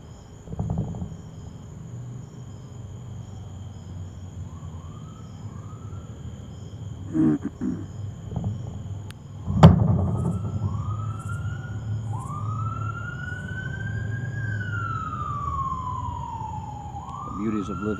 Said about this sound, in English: Fire truck or ambulance or police car every 10 minutes.